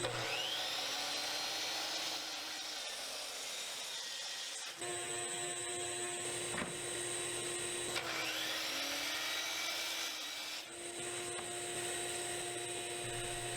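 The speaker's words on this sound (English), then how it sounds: "Now over at the miter saw, I cut the angles on the end of each strip" A miter saw cutting angled ends on plywood strips for a fireplace surround, a loud sustained whine with two separate cuts, each spinning up and winding down.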